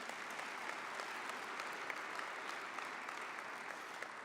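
A conference audience applauds during a speech by Rep. Sean Duffy at the CUNA GAC 2018 event, giving steady, dense clapping from many hands that is sustained and even, heard at a moderate distance without voices.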